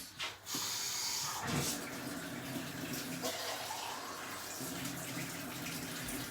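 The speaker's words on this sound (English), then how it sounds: "What I am going to do is add some water to these tins." Water runs from a tap into empty tins while cooking spaghetti bolognese, a steady continuous gushing splash that holds at even loudness for several seconds after a brief quieter start.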